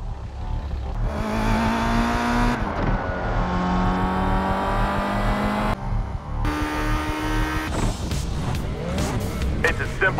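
An Audi A3 1.8 TFSI Quattro S Line races in a compact class F event in GT Racing, its engine rising and falling through gear changes with tire squeal and skidding, loud and continuous alongside game music.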